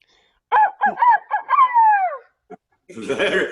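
A person imitates a rooster's crow with a drawn-out, wavering cock-a-doodle-doo, followed by a short burst of laughter and noise.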